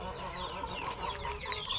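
Soft clucking and chattering of small black bantam hens nearby, with a few higher calls mixed in over a low background murmur.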